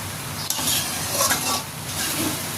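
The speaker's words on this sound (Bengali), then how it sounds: "ঢাকনাটা উঠিয়ে ঢেঁড়সটাকে ভালো করে নেড়ে চেড়ে নেব" Okra bhaji being stirred in a pan after the lid comes off: a utensil scrapes and turns the vegetables in steady strokes, with a light sizzle of frying underneath and a sharp knock near the start.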